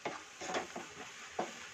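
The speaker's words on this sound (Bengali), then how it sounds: "হালকা গোল্ডেন করে পেঁয়াজ ভাজা হয়ে গেছে" Light-golden onions sizzle gently in a pan while a spoon scrapes through them in several quick stirring strokes, faint and close with no voices.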